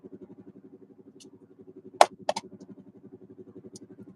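A car engine idles with a steady, low pulsing rumble throughout, broken briefly by a couple of sharp clicks or knocks midway.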